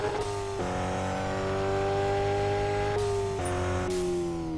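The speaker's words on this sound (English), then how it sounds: "I'm going to have to downshift into second for that one" A car engine revs hard after a downshift into second gear, a loud, steady mechanical drone that climbs through the gear before easing off in a few shifts.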